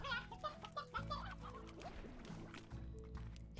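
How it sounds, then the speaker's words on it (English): Hens in the Slime Rancher video game cluck in short repeated bursts over a steady synthetic background drone, moderately close and continuous. "I got a load of elderly hens."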